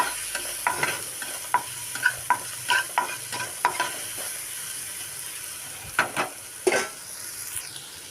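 Masala being stirred and fried in a pan for masala bread toast, a continuous sizzle broken by repeated scraping and clicking strokes of a spatula, close and moderately loud.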